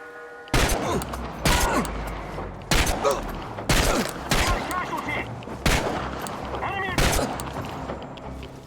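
Gunfire in the video game Chernobylite, a series of loud sharp shots at irregular intervals of roughly a second, each ringing out with a short tail over a low ambient background.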